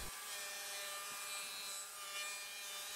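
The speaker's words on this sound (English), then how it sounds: "cut the same groove for the bottom" A table saw with a dado blade set 1/4 inch high hisses and rasps steadily as it cuts a groove along wood stock for the bottom of a keepsake box, a continuous, fairly close cutting sound heard alone.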